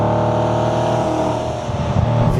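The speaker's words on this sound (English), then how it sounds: "V8 noises" An Audi B7 RS4 with its V8 engine gives a steady, loud, low rumble throughout, building slightly toward the end as if revving or accelerating, with no talking.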